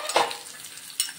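Curry leaves sizzle steadily in tempering oil in a pan, with a couple of sharp stirring scrapes over the hiss; no voices.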